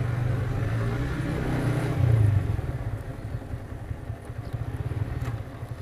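A motorcycle on the move through a Sylhet tea garden: a close, steady engine rumble with a pulsing low drone, a short swell of revving, then a slightly quieter, even throb.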